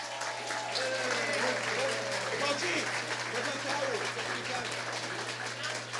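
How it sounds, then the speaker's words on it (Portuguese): Steady applause from an audience at a solemn session honouring Curitiba's champion samba schools, a dense continuous wash of clapping with cheers and voices mixed in, filling the room throughout. "Uma salva de palmas."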